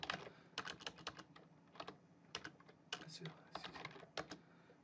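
Rapid keystrokes on a computer keyboard, typed in several quick bursts with short pauses between them, close and fairly quiet with no speech over them.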